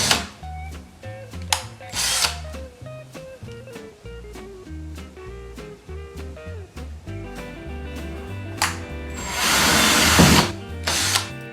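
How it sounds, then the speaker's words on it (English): A power drill whirs in short bursts pre-drilling a wooden door, with clicks and ratcheting between runs and a longer, louder drilling burst near the end. "I'm going to pre-drill the door"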